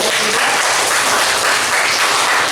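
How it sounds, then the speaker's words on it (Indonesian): A fourth-grade classroom claps steadily in dense, continuous applause, loud and close throughout. "Kita beri tepuk tangan yang meriah untuk"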